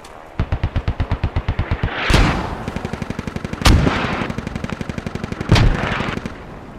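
Loud, close machine-gun fire rattles in rhythmic strings of shots in the military video game Squad, broken three times by heavy booming blasts, with no talking.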